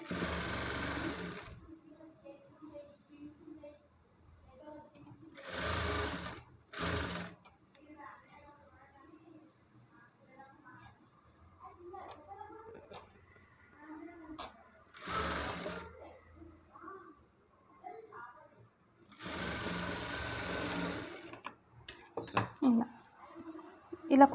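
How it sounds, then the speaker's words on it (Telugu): A sewing machine top-stitches a blouse in several separate loud whirring bursts of a few seconds each, with quiet gaps between where someone talks softly and cloth rustles. "దీనిపైన నుండి ఒక టాప్ స్టిచ్ వేయాలి"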